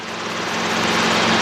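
A helicopter on an introductory training flight roars steadily from inside the cabin, a loud, dense rotor and engine drone with a faint rhythmic blade pulse and no talk.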